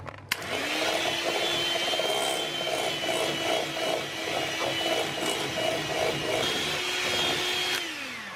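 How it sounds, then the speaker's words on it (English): An electric whisk beating egg yolks with stevia or sugar for an almond flour dessert produces a steady, close motor whine with a rhythmic rattling from the beaters in the bowl, running continuously for about seven seconds before switching off. "That is enough of the whisking"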